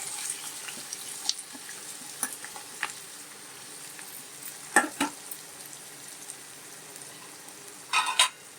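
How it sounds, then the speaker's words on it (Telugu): Onion pieces frying in hot oil in a kadai for chicken curry: a steady sizzle runs throughout, broken by a few sharp clinks and stirring scrapes, with a louder clatter near the end. "ఉల్లిపాయ ముక్కలు వేస్తున్నానండి"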